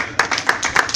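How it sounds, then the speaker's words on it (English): Rhythmic hand claps from a church congregation during a Sunday service, six or so sharp, evenly spaced claps in steady tempo, fairly close and moderately loud. "Let's give the Lord a hand clap, please."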